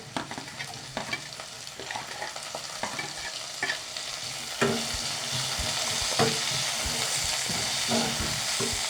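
Onion frying in a pan for vegetable biryani, a dense continuous sizzle that swells louder midway, with frequent scrapes and taps of a stirring spoon throughout.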